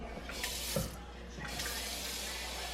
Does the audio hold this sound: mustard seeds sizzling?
no